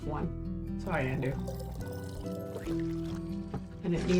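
In the video game Tavern Talk, a drink pours with a soft liquid gurgle and trickle, low in the mix beneath a person talking and light background music.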